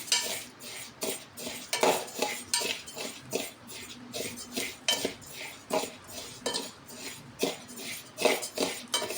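A spoon stirs rice as it dry-roasts in a pan, producing repeated rhythmic scraping clinks about once a second, close and crisp, with no talking.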